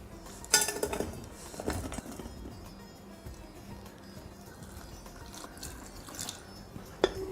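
Pots clink and water splashes in a kitchen while jaggery is dissolved for payasam. The metallic knocks and dripping are close and scattered, with a few sharper clanks.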